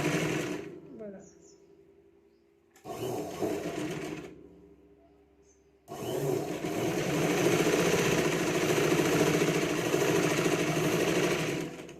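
Sewing machine stitching a katori blouse, joining the belt with straight seams: a faint start, then a loud rapid whirring burst, a pause, and a long steady run of fast stitching to the end.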